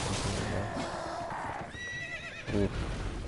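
A horse neighs in the video game Elden Ring, a short high whinny rising over the ongoing game ambience, followed by a brief thudding hoof-like sound.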